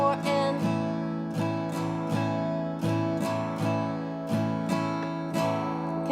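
Acoustic guitar strummed in a song's intro pattern, a steady down-down-up rhythm of full ringing chords, close and clear with no talking.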